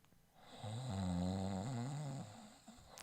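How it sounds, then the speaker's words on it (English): One long, drawn-out snore from a person, swelling in and fading out over about two seconds, heard close and alone against a quiet room. "Yes, I snored."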